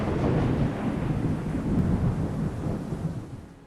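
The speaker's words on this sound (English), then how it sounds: "Rain and thunder are louder than in the vanilla game." Loud rolling thunder over steady rain from the Fallout 4 Calamity Weathers mod, a long deep rumble that swells and fades across several seconds against a continuous wash of rainfall, with no speech.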